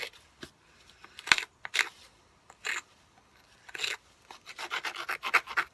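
A gemstone facet being cross ground by hand, heard as close, irregular rasping strokes that come in bursts and quicken toward the end.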